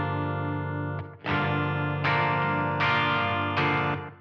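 Distorted electric guitar in drop D tuning plays a chord riff, with sustained heavy chords struck in four or five ringing hits, loud and alone with no talk.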